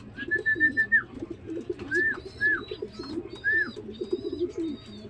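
Racing pigeons coo softly at a loft while a thin whistle-like call repeats several times over the top, close and fairly quiet with low background noise.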